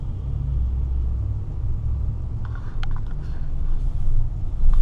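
A Tesla Model X rolls up through a parking garage with a low steady rumble and road noise, and faint squeaks and clicks come near the end.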